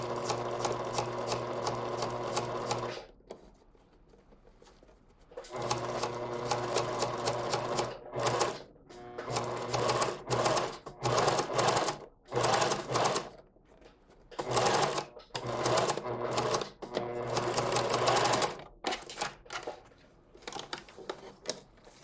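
Home sewing machine with a zipper foot stitching a concealed zip into wide-leg pants, running in several bursts of fast, even needle chatter separated by short quiet pauses and a few brief stops.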